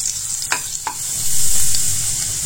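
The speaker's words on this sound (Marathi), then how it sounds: "आणि लसूण छान असं ब्राऊन कलर येईपर्यंत परतून घेणार आहोत तेलामध्ये" Chopped garlic sizzling in hot oil in a pan, a steady close frying hiss with a couple of light stirring clicks.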